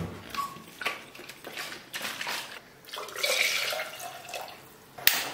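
Water used to rinse a mixer jar is poured into a pressure cooker in a home kitchen, making splashing and trickling sounds in uneven bursts that swell and fade, with one sharp knock near the end.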